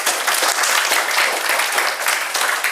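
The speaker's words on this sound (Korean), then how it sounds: "박수 보내주세요" Steady, dense clapping from an audience at a high school youth forum, close and sustained throughout without pause.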